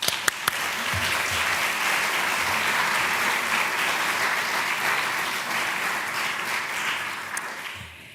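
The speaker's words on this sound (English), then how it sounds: "So please give them a round of applause." A conference audience on cultural heritage and peace gives a steady round of applause, with a few sharp claps at the start, then a full, even clapping that tapers slightly at the end.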